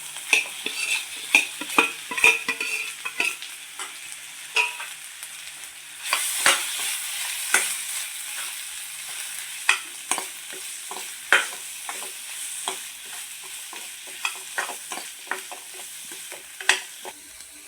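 Potato samosa filling with ginger-garlic paste stirred in a hot pan, with steady frying sizzle and repeated sharp scrapes and clinks of the spoon against the pan, the sizzle growing louder midway.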